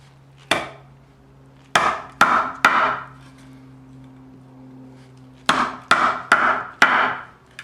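Mallet driving a chisel into a curved log to cut stop cuts, sharp woody strikes close up: one blow, a quick group of three, a pause, then a rapid burst of four, with no talking.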